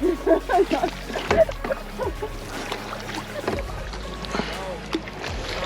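Paddles dip and splash in water beside a canoe, with sloshing and knocking against the hull, while people talk nearby.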